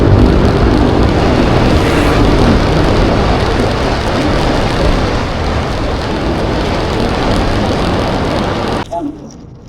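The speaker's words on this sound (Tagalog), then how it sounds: "Umulan na naman. Bugso-bugso lang yung ulan." Heavy, steady rain pours in a loud, dense hiss that continues without a break, then cuts off abruptly near the end, during a motorcycle ride in the Philippines.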